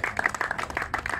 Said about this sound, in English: just a round of applause for everyone.